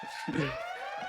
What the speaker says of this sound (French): Une bonne sirène